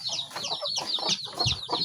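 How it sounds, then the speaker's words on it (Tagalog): Several chickens cluck close by in quick, overlapping bursts, a busy stream of short clucks and chirpy calls. "May alaga na naman akong manok."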